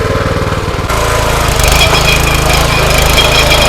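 A power weeder's engine runs loud and steady, chugging and rattling close by as its tines churn through hard soil, with no voices over the continuous mechanical din.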